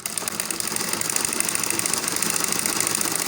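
A sewing machine runs steady gather stitches along a balloon sleeve, giving a continuous, loud, rapid mechanical whir with no pauses and no talking.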